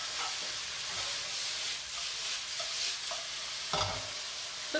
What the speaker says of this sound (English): Stir frying means we stir fry